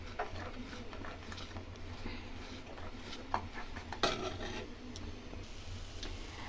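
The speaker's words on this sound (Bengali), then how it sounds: "এটা আমি অনবরত ঘাঁটবো, নাহলে নিচে লেগে যাবে" A spoon works a milk powder mixture in a pan over a medium-to-low flame, giving soft repeated scrapes and light ticks against the metal with an occasional sharper clink, close and fairly quiet.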